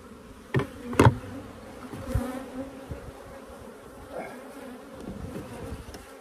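Honeybees buzz around an open beehive while a beekeeper works the frames, a close steady insect hum with a few sharp knocks and clunks of hive parts near the start.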